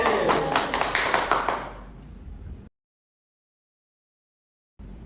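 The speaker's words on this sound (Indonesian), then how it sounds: "Tepuk tangan." A classroom group claps hands together in a brief burst of rapid, overlapping claps that fade out after about two seconds, followed by silence.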